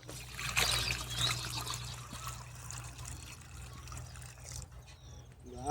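Water poured into a planting pit dug for a mango sapling, trickling and splashing steadily at close range for several seconds, with no talk over it.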